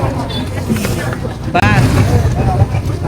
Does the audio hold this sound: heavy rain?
no